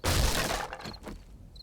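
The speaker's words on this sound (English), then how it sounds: "Let's just knock down the front door." A front door is knocked down in the game 7 Days to Die, giving one loud shattering crash that quickly decays into a few scattered clatters of debris.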